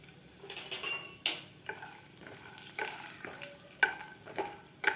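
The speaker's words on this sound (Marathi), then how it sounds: "आपल्याला यामध्ये आता सुरुवातीला हे शेंगदाणे तळून घ्यायचे आहेत" Peanuts frying in about two spoons of hot oil in a pan over medium heat, a soft sizzle with scattered clicks and light scraping taps, close and moderately quiet.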